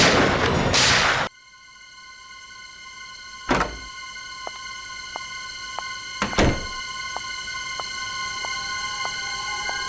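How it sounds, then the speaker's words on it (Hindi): Two sharp, loud bangs a few seconds apart, each a sudden broadband crack, over a steady low hum with faint ticking in between. "तभी अचानक एक गोली चलने की आवाज आई।"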